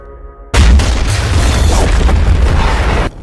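A sudden, massive explosion erupts after a brief quiet lead-in, followed by a loud, sustained rumbling roar that cuts off abruptly.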